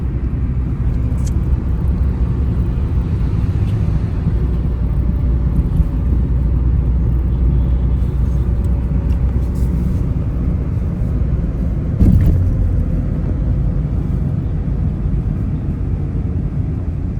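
Steady low road rumble and engine drone inside a Mitsubishi car driving on a highway in Egypt, constant and fairly loud with tyre noise and a brief bump partway through, no talking.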